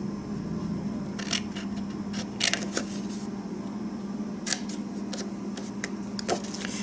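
Scissors cut through paper for a Valentine treat box, giving a handful of sharp, close snips and crisp clicks in irregular bursts over a low steady background hum.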